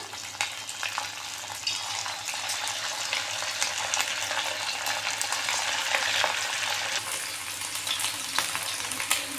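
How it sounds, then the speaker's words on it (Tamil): Marinated chicken pieces frying in hot oil in a pan for honey chicken, a steady dense sizzle with fine crackling spatters throughout, close and even, with no one talking. "இந்த மாதிரி நம்ம பேனில் எவ்வளோ பிடிக்குதோ அந்த அளவுக்கு போட்டு ஃப்ரை பண்ணி எடுத்துப்போம்"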